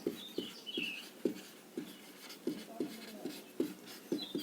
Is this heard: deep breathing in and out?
no